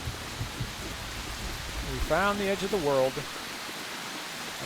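Steady hissing rain falls in a video game world, a constant wash of noise throughout while a person speaks briefly over it partway through.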